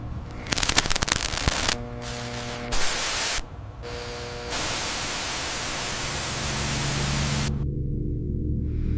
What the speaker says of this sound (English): Static filled the screen. White noise that felt like a living thing.